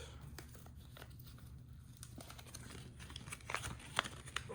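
Plastic packaging from a Lego USS Constellation set crinkles and tears at close range as it is opened, quiet at first and then louder, with no talking.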